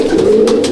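Malwai pigeon gives a single short, low coo up close in a loft, a soft steady throaty tone with nothing else heard.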